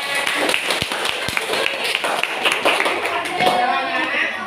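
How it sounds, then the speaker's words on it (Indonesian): Classmates clap for a student group after its presentation in a classroom, a short burst of uneven hand claps and taps with voices murmuring around them. "terima kasih kelompok 3, kasih tepuk tangan"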